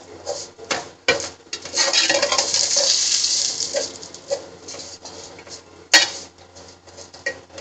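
Vermicelli roasting on low heat in a pan for sheer korma, stirred with a metal spoon that scrapes and clinks against the pan in irregular strokes over a soft, hissing sizzle.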